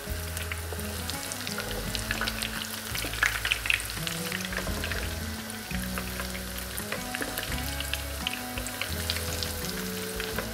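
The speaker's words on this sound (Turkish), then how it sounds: "bütün hazırladığımız hamburger köftelerimiz bitene kadar kızartma" Hamburger patties fry in hot oil in a pan, a continuous close sizzle and crackle with a few louder spits, and no talk.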